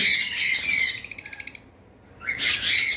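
A lutino red-eye pet bird gives loud, close squawking calls, then a quick run of short chirps, a brief pause, and another harsh squawk.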